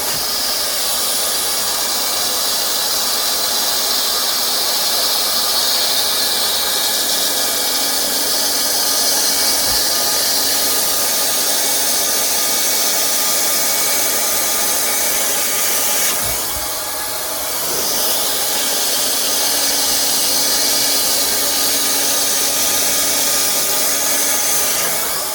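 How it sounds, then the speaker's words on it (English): Plastic welding gun with a tacking nozzle blowing hot air, a loud continuous hiss holding steady throughout with a brief dip midway, no talking. "So welding gun, tacking nozzle. Just keep it at try to keep it at a 45-degree angle."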